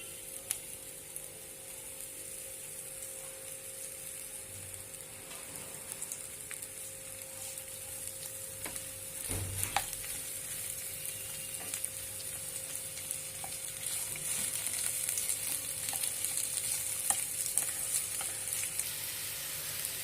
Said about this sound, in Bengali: সর্ষের তেল গরম করে পেঁয়াজ কুচি দিয়ে দিলাম